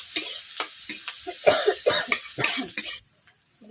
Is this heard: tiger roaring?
no